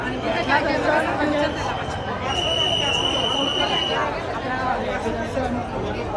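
A large crowd at the Mahakaleshwar temple in Ujjain, a steady dense babble of many voices filling the space, with a faint high tone running through the middle.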